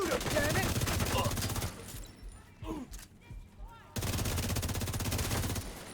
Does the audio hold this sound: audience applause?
no